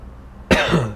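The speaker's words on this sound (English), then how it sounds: "Sorry, I coughed because I saw his name pop up" A single sharp cough from a person, sudden and close, following a quiet moment.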